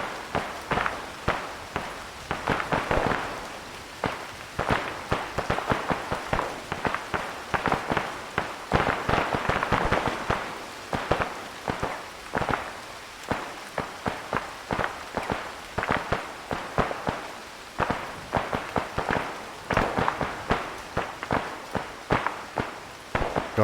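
Gunfire in the Arma 3 Antistasi mode in Chernarus, a long run of rapid sharp cracks and pops, some close and some distant, with bursts of varying density throughout.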